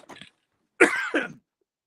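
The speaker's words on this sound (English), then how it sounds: "having a coughing fit mid" Two close coughs from a person in the middle of a coughing fit: a short one, a pause, then a longer rasping cough, followed by silence.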